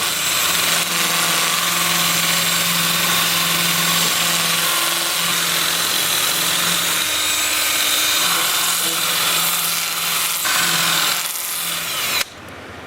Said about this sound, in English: I will switch to my 2-inch disc starting at 80 grit and working up through 400. I'll have the lathe spinning in reverse at 350 RPM